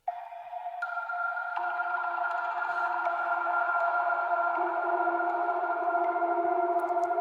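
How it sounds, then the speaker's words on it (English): A tonal ambience pad for a liquid drum and bass track made in FL Studio swells into a steady, layered chord that gains a lower tone partway through. It sustains smoothly, alone and moderately quiet. "is a tonal ambience. It sounds like this."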